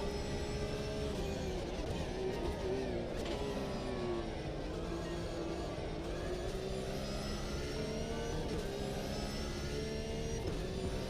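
A Porsche racing car engine in a racing video game drones continuously at high revs, shifting pitch slightly as it holds speed, dense and steady without any voices.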